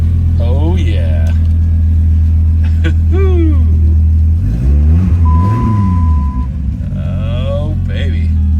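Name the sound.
Dodge Viper V10 engine starting, revving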